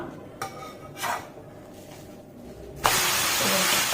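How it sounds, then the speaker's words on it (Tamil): A vegetable uttapam is flipped on a hot pan, with soft utensil knocks and scrapes before a sudden loud, steady sizzle as the batter lands face down and keeps cooking. "இதை இப்போ திருப்பி போட்டுக்குருவோம்ப்பா."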